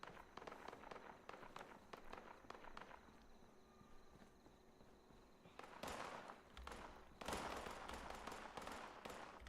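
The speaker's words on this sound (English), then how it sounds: "I hear gunfire." Rapid sharp cracks of gunfire in bursts in the video game Fallout 76, some distant and some louder, with footstep-like patter and heavy bursts of shots toward the end.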